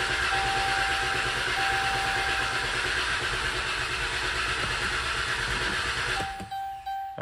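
Chrysler Town and Country engine cranking steadily without catching, fuel not reaching it: a loud, continuous churning starter drone for about six seconds, then it cuts off abruptly and brief quieter sounds follow.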